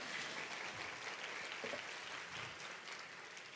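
A church congregation claps steadily for a few seconds, a soft, far-off wash of applause with a few murmuring voices mixed in.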